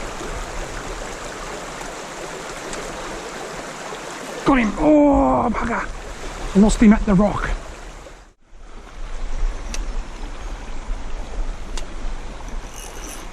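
A trout creek flowing steadily, a broad continuous rush of water heard nearby, with someone talking excitedly over it for a few seconds in the middle.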